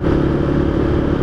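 A 2012 Honda Tiger Revo motorcycle rides along a road at night, its engine a loud, steady, close drone.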